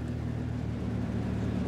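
Van engine on a drift test drive, a low steady droning hum with constant tone, moderately quiet and continuous throughout.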